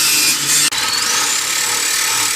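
Rusted, stuck control arm bolt being cut off on a car suspension: a steady, loud power-tool cutting whine runs throughout, briefly dropping out once before resuming, with no talk.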